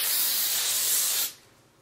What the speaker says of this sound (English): spray a little bit of hairspray around the hair so it gets kind of stiff.